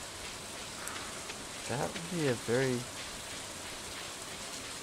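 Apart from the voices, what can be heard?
rain falling in the video game Stardew Valley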